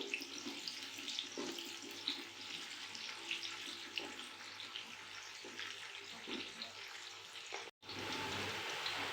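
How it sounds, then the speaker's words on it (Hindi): Onions frying lightly in a pan, a steady hiss and crackle of sizzling oil running continuously, close and moderately loud, with a brief dropout near the end. "प्याज को हम ब्राउन नहीं करेंगे, बस थोड़ा सा ही फ्राई करेंगे इनको।"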